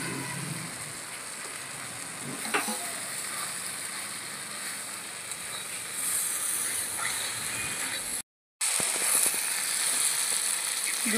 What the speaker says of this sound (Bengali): এবার ভেজে রাখা ডুমুর আর আলুটা দিয়েও কষিয়ে নেব